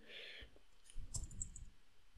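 Quiet computer mouse clicks while working in Power BI, a couple of light clicks close by with faint room hum underneath.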